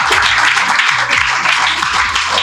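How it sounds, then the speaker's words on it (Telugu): An audience claps loudly in a church in Nellore, honoring families at a gathering, a steady dense wash of applause lasting throughout with a low tonal hum underneath and no clear talk. "రవీంద్ర వీరందరికీ ఒకసారి పెద్దగా చప్పట్లు కొడదాం నాయనా"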